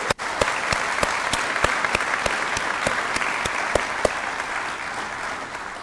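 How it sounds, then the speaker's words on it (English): Audience at a high school hall of fame ceremony applauding, sustained dense clapping with a few sharp louder claps standing out near the front. "Can we give a round of applause to them,"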